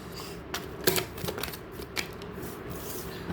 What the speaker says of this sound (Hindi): तो मैं कार्ड्स शफल कर रही हूँ आपके सामने ही